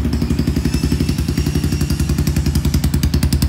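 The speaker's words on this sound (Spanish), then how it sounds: "Para que escuchen el escape." A Vento Rocket 250 Café Racer motorcycle runs with its exhaust close by, a rapid, even stream of loud low pulses with clattering mechanical ticks above, and no voice over it.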